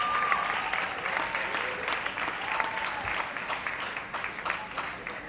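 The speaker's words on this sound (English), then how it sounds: "please give her a big round of applause" An audience at a performing arts awards ceremony applauds in a sustained wash of clapping, heard from a distance at moderate level, with faint voices and a brief tone rising above it.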